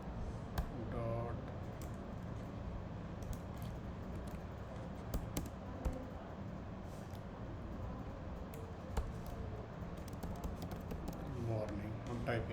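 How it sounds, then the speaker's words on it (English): Someone types on a computer keyboard while writing PHP code, producing scattered soft key taps and a few sharper clicks under steady, close talking. "and here I'm typing"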